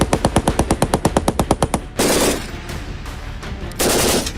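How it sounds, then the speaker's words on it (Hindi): An Indian-made medium machine gun fires a rapid burst of about fifteen sharp rounds in steady rhythm, loud and close, followed by two bursts of broad blasting noise, one of them after a quieter stretch. "भारतीय सेना के जवान मेड इन इंडिया MMG से फायरिंग कर रहे हैं।"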